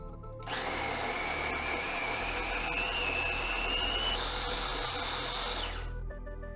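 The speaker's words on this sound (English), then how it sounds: "it's just a case of blitzing it up." A blender blitzing peri peri paste with lemon juice, a steady whirring motor whine lasting several seconds that rises slightly in pitch midway before cutting off.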